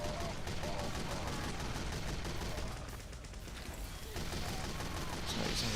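Team Fortress 2 gunfire, dense rapid shots in a continuous barrage with a brief lull midway, fairly busy and loud.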